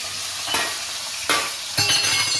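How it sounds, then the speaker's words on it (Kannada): Spices tempering in hot oil for a cabbage palya sizzle and crackle steadily, with sharp bursts of spattering as more ingredients hit the pan, close and loud without talk. "ಇವಾಗ ಪಲ್ಯಕ್ಕೆ ಒಗ್ಗರಣೆ ಹಾಕೋತಾ ಇದ್ದೀನಿ."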